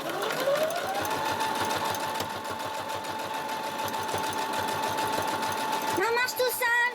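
A sewing machine runs steadily through the final seam of a reusable fabric face mask, its fast needle chatter continuous and close, with brief speech over the top near the end.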